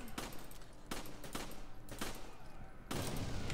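Bursts of gunfire from the video game Resident Evil 5, several sharp shots spread through the stretch, with a continuous loud game soundtrack underneath.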